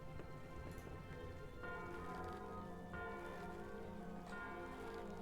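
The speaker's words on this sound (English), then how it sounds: "Oh, let's ring a bell." A bell in Guild Wars 2 rings in a few resonant strikes, each sustaining and decaying over soft ambient game sound, with no talking.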